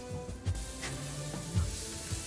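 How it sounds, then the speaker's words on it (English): Onion and red pepper sizzle and fry in a pan at close range, a steady crackling hiss with a few soft stirring knocks and no voices. "So my onion is still cooking"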